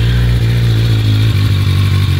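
A cold Suzuki GSX-R sportbike engine idles close by, a steady low rumble with an even pulsing beat and slight clattery ticking, holding constant with no revving and no voices.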